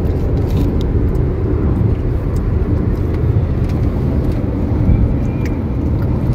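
A car cruises along a long highway from Siliguri to Kolkata, a continuous low engine and tyre rumble with steady road noise inside the cabin and no pauses.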